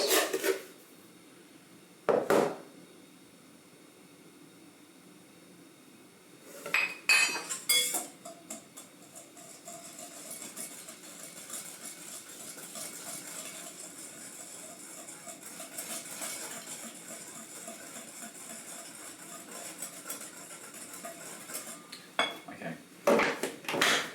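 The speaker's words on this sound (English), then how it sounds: "Got a whisk ready for this." Whisk clinking and scraping against a bowl while sugar and corn flour are mixed, a steady rapid rattling with a few louder knocks and clatters near the start and end, close by and fairly quiet.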